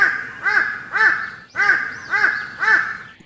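Crow cawing, five harsh calls at an even rhythm, close and loud with no other sounds.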